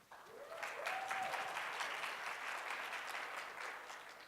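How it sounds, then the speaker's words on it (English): Audience at a Starcon tech conference gives a round of applause before a talk: sustained, fairly faint, even clapping from a room full of people, with no voices on top. "Give him a round of applause."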